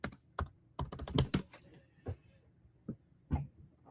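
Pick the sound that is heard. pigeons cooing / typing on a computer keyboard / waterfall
typing on a computer keyboard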